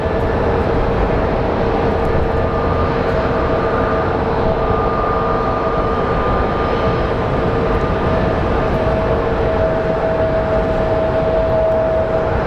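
An airliner arriving from Baltimore at Phoenix Sky Harbor, heard as a loud, steady, broad jet roar with faint tonal whines that holds without pause, with no talk.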